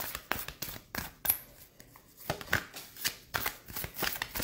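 A deck of oracle cards is shuffled by hand at close range. Quick papery riffles and slaps repeat in irregular bursts, with short pauses between them in an otherwise quiet room.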